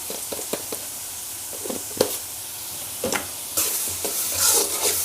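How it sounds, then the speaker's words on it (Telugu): Onion, green chilli and curry leaves fry in a pan with a steady sizzle, while a spoon stirs and scrapes in repeated knocks and scrapes. The sound is close and fairly loud, with no talking. "ఇవన్నీ బాగా ఫ్రై చేసుకోవాలి ఆనియన్ పచ్చిమిర్చి కరివేపాకు అంతా కూడా బాగా వేగాలన్నమాట"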